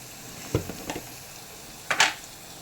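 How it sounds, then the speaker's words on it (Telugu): Two onions frying in a pan for majjiga charu, heard as faint, quiet sizzles and a few brief stirring bursts against a soft background. "కొంచెం ఫ్రై అవ్వాలి ఫ్రై."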